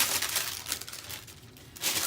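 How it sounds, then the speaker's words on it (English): Paper craft materials crinkled by hand while assembling a floral journal signature, a close, continuous rustling and crackling with a few louder bursts and no talk. "Sometimes I don't realize how loud I get crinkling stuff until I'm watching the video back."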